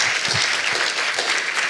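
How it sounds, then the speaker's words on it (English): A conference audience at a healthy corner stores panel breaks into dense, sustained applause, many hands clapping at an even level throughout with no talk on top. "Let's give one more round of applause for these great good food cities."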